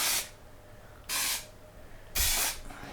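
Three short bursts of aerosol glue spray hiss, each lasting a fraction of a second, evenly spaced and fairly close.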